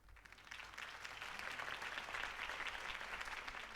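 A crowd applauds Harvey Dent's campaign speech in the Batman Telltale game, a continuous faint wash of clapping that swells slightly and holds steady.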